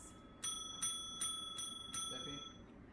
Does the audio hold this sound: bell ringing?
yes